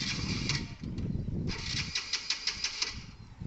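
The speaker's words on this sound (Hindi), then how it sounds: "बाइक को स्टार्ट करके दिखा देता हूँ आपको।" A Hero Glamour 125cc BS6 motorcycle with an empty fuel tank cranks on a start attempt, faint rhythmic whirring pulses that fail to catch, heard up close without voices.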